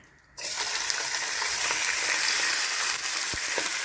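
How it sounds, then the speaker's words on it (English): Loud, steady sizzling of chicken gizzards frying in hot oil, beginning abruptly after a brief quiet moment and continuing with crackling pops throughout. "So now we're gonna throw our gizzards in."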